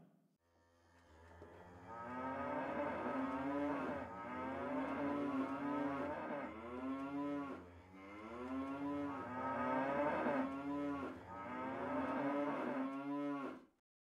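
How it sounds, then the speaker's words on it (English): Welsh cows moo in a series of long, drawn-out lowing calls, several overlapping and sustained, fairly close with no talk. "let's check in on those Welsh cows one more time."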